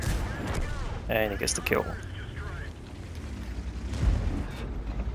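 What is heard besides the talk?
tank cannon fire in World of Tanks video game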